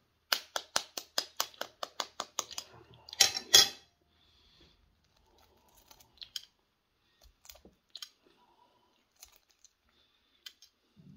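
A teaspoon clinks against dishes in a quick run of about a dozen rapid, bright taps, then a short rattle, followed by sparse faint clicks and knocks.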